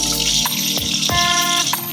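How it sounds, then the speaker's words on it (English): A tap runs steadily as hands are washed under it in a kitchen after holiday vegan baking, a brief continuous splash with small clinks and knocks on top. "Let me wash off my hands."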